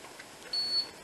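Car hood sensor alarm under test, giving a thin high electronic beep that starts halfway through and repeats briefly at the end over faint room noise.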